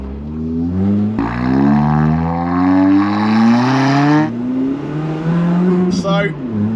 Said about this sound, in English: this is what Rishi the Honda Jazz sounds like